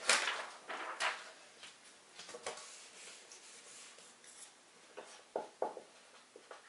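Writing on a board makes a run of short scratchy strokes and light taps, close but fairly faint, in uneven bursts with quiet gaps and no speech.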